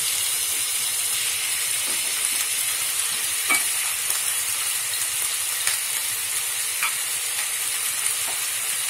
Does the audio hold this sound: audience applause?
no